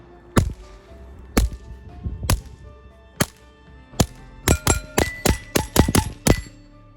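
A Taurus TX22 Compact pistol fires Aguila 40 grain high velocity .22 rounds outdoors: four sharp, well-spaced shots, then a rapid string of about ten close, loud cracks, each with a short ringing tail.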